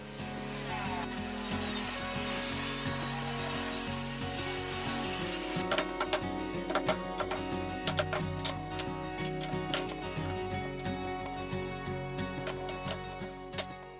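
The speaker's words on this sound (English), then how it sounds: "I make a few narrow strips on the table saw to give more visual interest." Table saw ripping narrow strips of wood for a chair build, a steady high whining blade cut that gives way to clattering and knocking of wood pieces being handled nearby, moderately quiet, with no speech.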